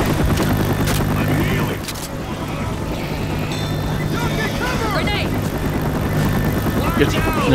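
Helicopter in the video game Left 4 Dead, a loud continuous rotor drone and engine rumble mixed with game noise, with people talking over it.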